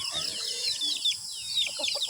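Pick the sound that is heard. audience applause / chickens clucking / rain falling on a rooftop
chickens clucking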